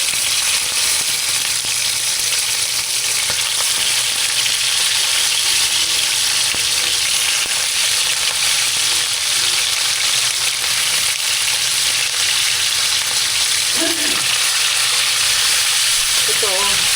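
Fish frying in hot oil for a home-cooked Filipino meal, giving a steady, loud, dense crackle and hiss that runs unbroken throughout, with a few brief clinks near the end.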